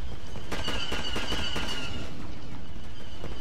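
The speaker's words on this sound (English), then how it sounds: "Blaster rifle, here we go." Blaster rifle fire in Star Wars Battlefront 1 at a Mos Eisley spaceport, a quick run of several sharp, evenly spaced shots near and loud, then fading into steady background noise, no talking.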